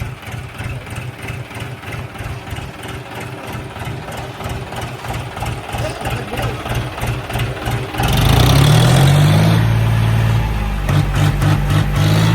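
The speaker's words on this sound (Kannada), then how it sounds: "ಎಕ್ಸಾಸ್ಟ್ ಸೌಂಡ್ ನೋಡಿ ಹೆಂಗಿದೆ ಟ್ರ್ಯಾಕ್ಟರ್ದು." A tractor engine runs with a steady, throaty exhaust chug, loud and close, then revs up sharply into a heavier roar partway through before settling again.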